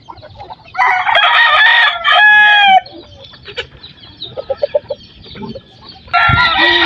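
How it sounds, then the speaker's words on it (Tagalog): Several young roosters crow in turn, with loud, close, ragged calls and soft clucking in between, heard over a quiet outdoor background. "Parang mga tandang ata yan."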